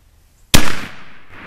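A single sharp muzzleloader rifle shot fired while sighting in for squirrel hunting, loud and close, with a sudden crack and a short decaying tail in quiet surroundings.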